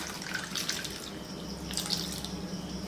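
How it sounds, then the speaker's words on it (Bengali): Cold water is poured over boiled raw mangoes to cool them, making a continuous, fairly quiet gush and splash like running tap water, with small drips and no voices. "তুলে নিয়ে ঠান্ডা জল দিয়ে দিলাম।"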